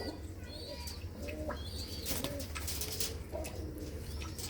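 Pigeons of a prized breed coo softly in a loft, with low throaty calls repeating under faint chirps and a brief flutter of wings, quiet and close with steady background noise.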